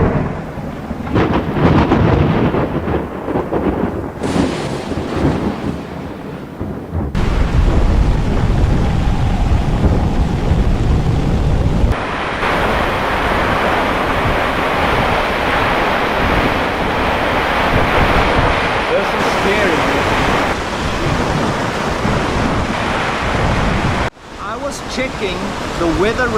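Strong storm wind batters a forest camp shelter, roaring loud and continuous with heavy gusts and rumbling buffeting against the microphone, shifting in intensity through the scene.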